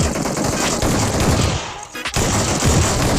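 Rapid bursts of gunfire crackle nearly nonstop in a PUBG match, loud and dense, with a brief lull before the shots resume.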